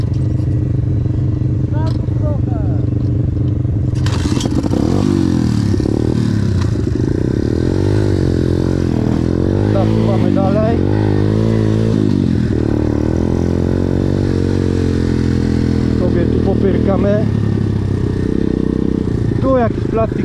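A motorcycle engine idles and revs while the rider works the gearbox searching for neutral, with clunks and clatter of gear changes close by, someone talking over it throughout.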